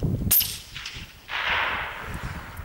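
A single sharp rifle shot cracks out while shooting vermin outdoors, followed by a brief rolling echo and soft ambient hiss.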